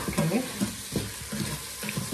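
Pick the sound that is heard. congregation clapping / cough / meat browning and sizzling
meat browning and sizzling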